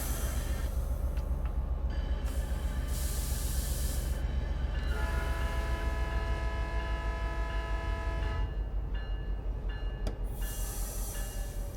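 A train horn in Train Sim World 5 on the San Bernardino Line sounds in several long sustained blasts over a steady low rumble of the moving train, with brief gaps between the blasts.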